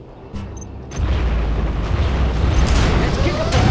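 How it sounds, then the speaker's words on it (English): Scud Storm missile strikes in Command & Conquer Generals, a short lead-in of quieter game sounds followed by a sustained, loud rumbling barrage of booming explosions that continues to the end. "General, a scud storm has been launched."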